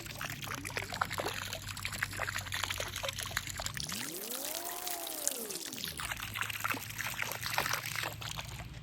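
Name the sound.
pouring pool chemical from bottle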